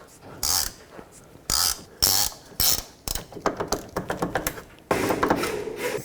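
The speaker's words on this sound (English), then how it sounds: "I'm going to hold the stud while I take the nut off." A wrench works a nut off the ball joint stud on a 2001-2007 Volvo V70 front suspension, giving a run of close, quick ratcheting clicks in bursts, with louder clacks and metallic clatter between them.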